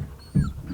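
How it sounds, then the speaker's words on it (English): A year-old dog whimpers and pants nearby, a short soft whine rising into a brief louder yelp-like whimper before settling back to quiet breathy panting. "Sorry, that's my dog."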